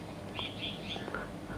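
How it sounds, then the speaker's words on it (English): Birds chirp in a forest: a few quick, bright high-pitched chirps repeated in a short burst, moderately near and clear over a soft background hiss. "birds chirping"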